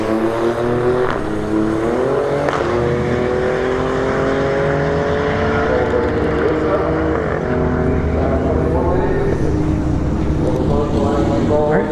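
Alfa Romeo Stelvio Quadrifoglio on a solo drag strip pass at a street-heat event, its engine loud and close as it climbs through several gear changes, with a steady wash of background noise throughout.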